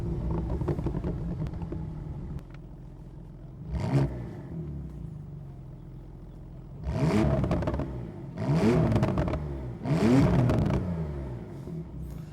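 A Porsche 991.2 Carrera GTS sports car driving, its engine rising in several distinct revving surges over a low rumbling idle between bursts, heard from inside.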